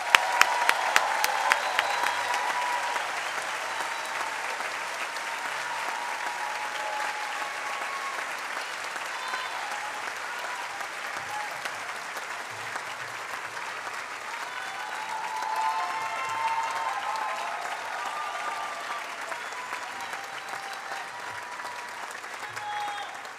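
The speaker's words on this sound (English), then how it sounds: "Please join me in giving these amazing students a round of applause" Audience applause for graduating students at a school graduation, a long, steady roar of many hands clapping that starts loud with a few sharp claps and holds evenly, with faint voices beneath.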